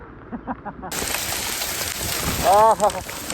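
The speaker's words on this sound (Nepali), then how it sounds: "असिना पानी चलिरहेको छ रोडमा एकदम पानी भल बगिरहेको छ" Steady hiss of heavy rain and hail sets in after a quiet start, with a voice briefly audible near the end.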